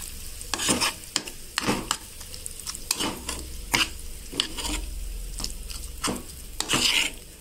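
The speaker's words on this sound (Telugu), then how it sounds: "ఈ విధంగా పచ్చిమిర్చి, పప్పు ఇవన్నీ ఈ విధంగా చక్కగా కలిపేసుకోవాలి." A spoon scrapes and stirs dal and green chillies frying in a pan, with repeated sharp scraping strokes over a soft, steady sizzle, close and clear with no talk.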